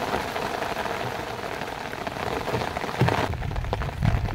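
Heavy rain pours steadily onto a surface outdoors beside a farm pond, a dense hiss of drops with a faint engine-like rumble underneath and a few louder splashes toward the end.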